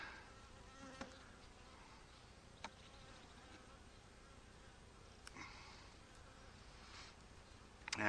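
Honey bees buzz steadily around an opened hive during a check and split, a faint, continuous droning hum with occasional light knocks and clicks from handling.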